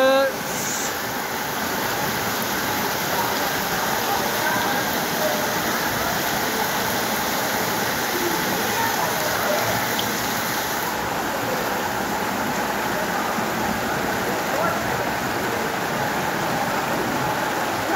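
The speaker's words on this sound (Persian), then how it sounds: "این هم آبشار ارتکن" Artekan waterfall at Kalat, near Mashhad, gives a steady broadband rushing roar that holds evenly from start to finish, close and loud with no pauses.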